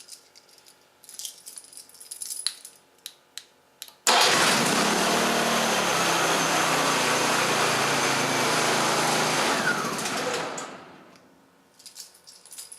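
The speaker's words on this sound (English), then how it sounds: "press and hold this red stop button until the engine stops" HY2000SEi inverter generator shut down with its red stop button: after some light clicks and handling, the engine roars on loudly and steadily, then winds down and fades to quiet, leaving faint clatter.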